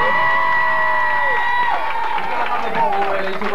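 At a Stars In Their Eyes karaoke competition prize announcement in a Barnstaple pub, a crowd cheers and whoops loudly with applause while people call out over the noise.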